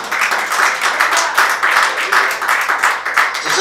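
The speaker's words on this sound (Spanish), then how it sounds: "Un aplauso a Cristo, hermano." A church congregation at a Christian service applauds together, dense rhythmic clapping from a crowd in a room, loud and sustained without a break.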